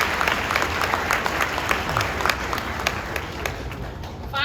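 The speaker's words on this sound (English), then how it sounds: "we would like to honor his academic accomplishments today with a round of applause as well" A high school graduation audience applauding, dense sustained clapping from a large crowd that stays even and lively for several seconds.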